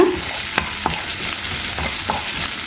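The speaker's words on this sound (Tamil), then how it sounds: "பூண்டு பச்சை மிளகாய் நல்லா பொறிஞ்சி வரணும்" Garlic and finely chopped green chillies sautéing in ghee, with a steady close sizzle and a few scraping stirs of a spoon across the pan, no talking.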